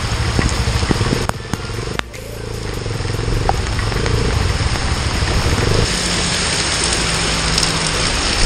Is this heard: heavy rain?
yes